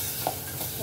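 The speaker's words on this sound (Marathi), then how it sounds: "चला तर आता आपण इथे गूळ टाकून घेऊया" Jaggery is stirred in a frying pan, giving a brief, soft scraping and light sizzle under a steady background hiss.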